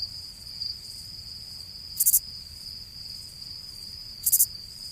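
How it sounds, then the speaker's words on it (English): A steady high cricket drone runs throughout, with two sharp, louder bursts of chirping about two seconds apart over a quiet background. "Crickets, that's all I get."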